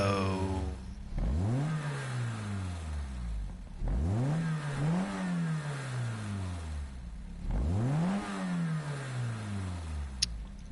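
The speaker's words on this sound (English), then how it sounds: "So let's see what the Peugeot sounds like." Peugeot GTI with a 1.9-litre four-cylinder engine in Gran Turismo 7, revved hard three times, each run climbing steeply through the gears with brief shift dips before falling back, loud and alone.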